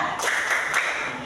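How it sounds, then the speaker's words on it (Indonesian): A class of pupils doing a rhythmic 'tepuk hebat' clapping cheer for Kenji, a quick group of three or four claps in a steady beat, close and fairly loud. "Tepuk hebat buat Kenji ya."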